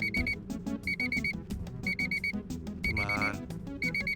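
A beeping alarm sounds in the Pilotwings 64 video game, a repeated pattern of short high-pitched electronic beeps in quick clusters, loud and steady over game music, with someone briefly speaking over it.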